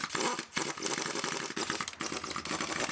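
A torque wrench tightens bolts on the damaged engine of a 2014 Chevy Cruze during a rebuild, producing rapid, close metallic ratcheting clicks in steady bursts with a couple of short pauses.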